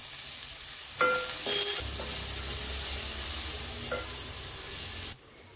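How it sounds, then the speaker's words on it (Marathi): Sliced onion sautéing with curry leaves and salt in a pan for a spicy okra masala, a steady close sizzle with a couple of stirring scrapes, then the sound cuts off near the end. "कांदा आपला हलका परतून झालाय"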